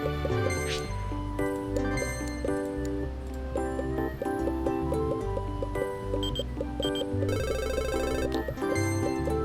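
A telephone rings in the video game Mad Games Tycoon over looping game music, a repeating electronic ring heard most clearly near the end.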